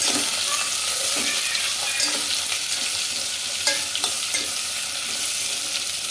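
Vegetable pieces cook in a pan on a low flame, sizzling steadily with occasional stirring scrapes, close and continuous with no talk.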